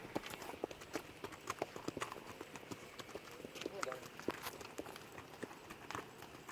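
Irregular hoof clip-clops from several horses moving at a walk through a pasture on soft ground, with people talking over the steady hoofbeats.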